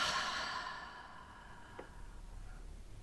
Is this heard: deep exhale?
yes